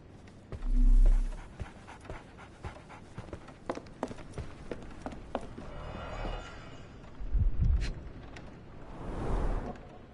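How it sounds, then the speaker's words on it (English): A dog pants in the Sherlock Holmes The Awakened video game, quick soft breaths close by, with a few footsteps and thuds and a louder low thump near the start. "So, Barnes has a dog now."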